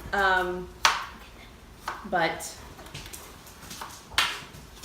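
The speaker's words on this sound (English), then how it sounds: "So I'm gonna finish chopping these, and I'm gonna chop some of these little sweet peppers." A knife chops vegetables on a kitchen board in a few sharp, separate strikes spaced across the stretch, with someone talking between and over the cuts.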